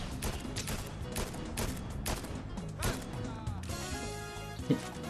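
Gunfire in the Fortnite video game: several sharp shots and short bursts spread through the clip, mixed with other game noise at a moderate level.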